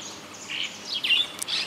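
High thin chirps from birds competing over a nest hole in a pipe in Esperanza, Santa Fe, Argentina, including a swallow, sparrow and shiny cowbird, several quick calls close by.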